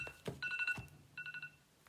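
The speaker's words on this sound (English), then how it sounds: "Sorry, I forgot about my alarm." A phone alarm chimes in short bursts of bright electronic tones, one cluster followed by a quicker repeated beeping pattern, fairly quiet in an otherwise still room.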